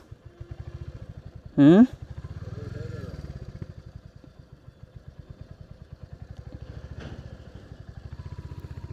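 Royal Enfield Hunter 350 motorcycle idling and riding on rough off-road ground, its steady single-cylinder thump continuous throughout, with a brief sharp scrape of the engine striking the ground and people talking over it.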